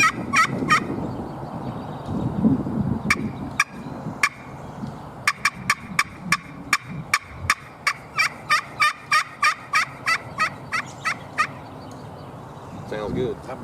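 A custom-made Alpha & Omega turkey call played by hand, giving a loud, close run of sharp yelps and clucks that settles into a steady rhythmic series of evenly spaced notes, with faint room noise between them.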